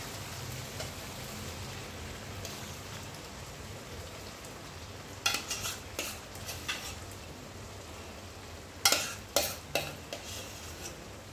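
Dal sizzles softly and steadily in a pressure cooker, with a few clattering bursts of stirring, no voices.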